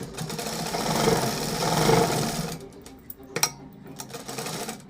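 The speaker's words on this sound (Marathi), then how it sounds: "अशा मागं पुढं करून दोन चार टिपा मारून घेतल्या" A sewing machine runs stitches back and forth across a blouse hook strip, giving a steady, close whirring for a couple of seconds before it stops and a few light clicks and taps follow.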